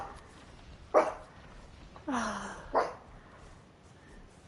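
A pet dog barks and whimpers indoors in a few short bursts, with a longer whining cry between the barks over a quiet background.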